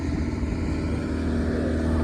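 An old tractor nicknamed Screaming Jimmy runs loudly and steadily up close on a farm at wheat harvest, its engine giving a dense, constant low drone with no breaks and no voices.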